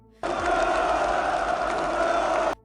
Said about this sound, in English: They've been ordered to gather, wave flags, hold posters, and cheer for him.